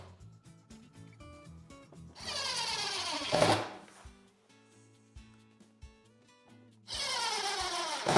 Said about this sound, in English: now I will just get my Phillips head screw gun and fasten these hinges on